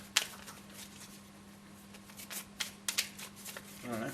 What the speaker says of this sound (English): Decks get shuffled back in and we go again.